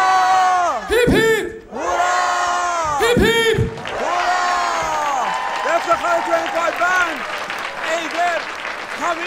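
At a 1398 Nowruz New Year studio show, a caller's voice rises twice in sharp calls, each answered by a loud crowd roar of hooray, followed by sustained cheering, whoops and clapping that stay loud and busy to the end.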